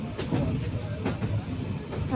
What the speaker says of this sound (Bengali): কারণ ট্রেনে প্রচুর শব্দ হয় তাই না